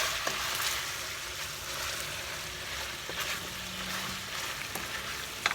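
Chicken curry frying in a pan, a continuous soft hiss and crackle with occasional light pops, no voices.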